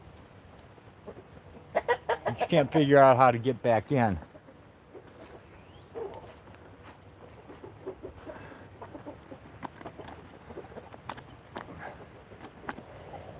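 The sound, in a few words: chickens and rooster clucking by a coop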